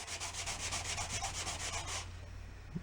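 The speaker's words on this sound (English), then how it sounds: "If I rub a rag on it, does it just come right off?" A bare rag rubbed briskly over a vintage 1950s metal cola thermometer, giving steady rhythmic scrubbing strokes for about two seconds, close and fairly loud, before stopping into quiet.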